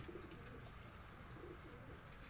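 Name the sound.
Saharanpuri-Napta cross pigeon pair cooing in breeding loft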